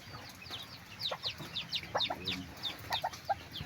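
Chickens cluck softly and repeatedly in short bursts, with a faint steady background hum and no speech.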